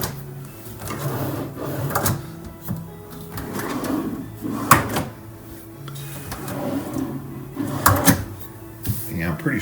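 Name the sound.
hotel room furniture drawers opening and closing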